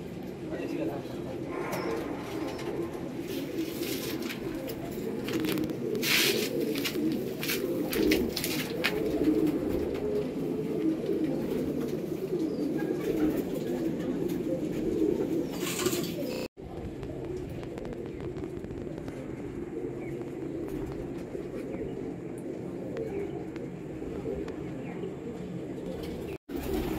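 Pigeons cooing in a double-deck cage, low repeated coos with a few chirps over a long stretch, with people talking in the background.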